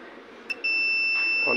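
An Autonics TK4S temperature controller's alarm buzzer cuts in as one continuous high electronic tone after a brief chirp, holding steady to the end over faint background noise.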